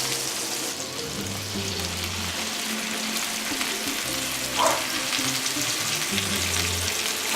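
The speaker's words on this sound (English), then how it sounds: "Now I'm gonna pop these guys on the pan to cook." Tomatoes fry in a pan alongside bluefish, giving a steady close sizzle and crackle throughout with occasional louder spits, and no voices.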